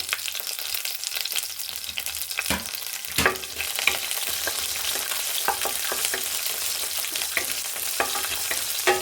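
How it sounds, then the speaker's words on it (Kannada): Onion and curry leaves fry in two spoons of hot oil as tempering for millet bisi bele bath, giving a steady close sizzle with scattered crackles and spoon-stirring clatter throughout. "ನೆಕ್ಸ್ಟು ಇವಾಗ ಒಗ್ಗರಣೆ ಮಾಡ್ಕೊತಿರೋದು"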